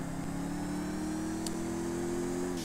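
Bullet supercar engine in GTA 5 lapping the Nurburgring, a steady mid-pitched drone holding at even loudness throughout with no one speaking.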